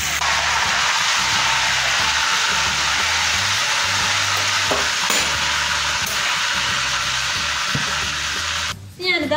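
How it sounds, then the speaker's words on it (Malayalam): Chicken fries loudly in a pan for a chicken chargha dinner, giving a dense, continuous sizzle with low clatter underneath that breaks up briefly near the end. "ഒരു 6 മിനിറ്റ് ഒരു സൈഡും 6 മിനിറ്റ് ഒരു സൈഡും നമുക്കൊന്ന് ഫ്രൈ ചെയ്തെടുക്കാം."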